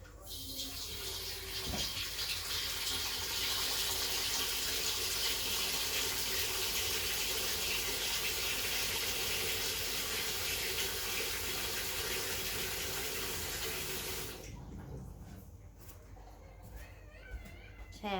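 A kitchen tap runs hard and steady for about fourteen seconds while vegetables are washed, a loud close hiss of flowing water that then cuts off, leaving quieter room sounds.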